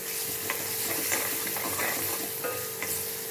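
Sliced shallots sizzle in hot oil while a utensil stirs them, with scraping clicks breaking through the steady frying hiss.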